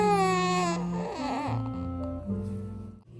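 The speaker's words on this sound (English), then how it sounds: "You can hear my baby in the background." A baby cries in sustained, wailing bursts with shifting pitch, loud and close, with no other voices over it.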